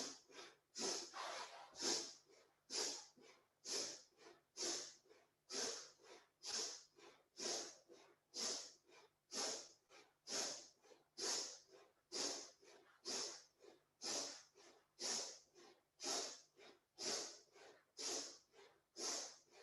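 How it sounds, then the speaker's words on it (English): Alternate nostril breathing during a Kundalini yoga practice: a steady train of about twenty sharp, forceful nasal breaths, evenly spaced and close, each a short airy rush with no talking. "Inhaling left, exhaling right."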